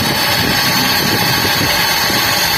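A Nissan Super Saloon engine idles with a steady, loud mechanical hum and vibration, with no clear break as the air conditioning compressor switches off.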